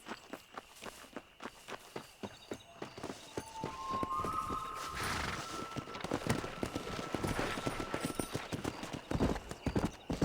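Horse hooves clip-clop steadily in Red Dead Redemption on Nintendo Switch, a brisk even gait that builds into a faster ride, with faint whistling tones and music underneath.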